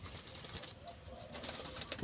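Liu Tan doves cooing in an aviary, soft low coos repeating under faint ambient noise and scattered high chirps, with a sharper sound near the end.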